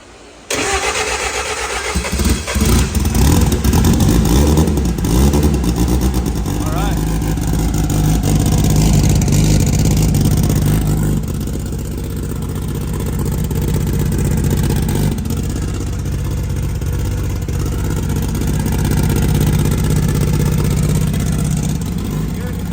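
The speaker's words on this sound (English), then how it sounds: "We got the new turbo on, and we're ready to fire it up and see how she sounds." A race car engine fitted with a new turbo cranks and fires up, then settles into a loud, rough, close idle with a few uneven blips of revving; voices are heard faintly.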